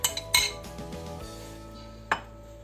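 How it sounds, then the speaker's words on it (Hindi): Grated radish and carrot being mixed in a bowl, heard as a few sharp clinks of a utensil against the bowl at the start and once more near the end, with quiet soft mixing in between. "एक बाउल में ये सारा एक साथ मिक्स करना है"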